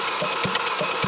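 An Audi RS3 engine with no compression turning over on the starter, a fast, even whirring crank with soft regular pulses and no firing, close and continuous for about a second.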